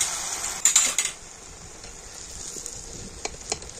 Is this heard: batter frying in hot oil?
yes